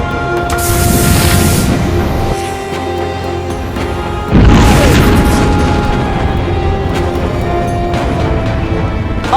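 Torpedoes fire and explode as a science-fiction sound effect, a loud rumbling roar followed by a heavy booming blast about halfway through, then a long sustained rumble with a falling whine, dense and close.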